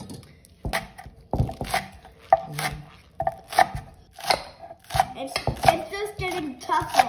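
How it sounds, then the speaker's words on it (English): Scallions are sliced with a knife on a cutting board in a home kitchen, a series of sharp, close chops in an uneven rhythm with short pauses between bursts and no talking. "I'm gonna have my kids press this cream cheese down and mush it up a little bit while I cut my scallions"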